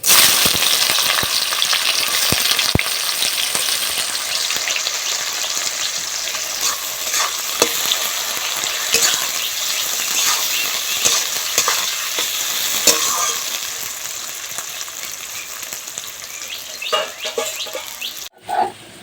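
Chopped onion fries with cloves and cinnamon in hot oil for a jackfruit chicken curry, a loud, steady sizzle with scraping stirs throughout, fading near the end.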